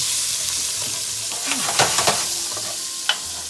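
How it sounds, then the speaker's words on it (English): A utensil scrapes the browned fond from a very hot pan holding sizzling zucchini, steady frying hiss with a few sharp scraping strokes near the end. "That comes from like a really hot pan, and I'm scraping the fond."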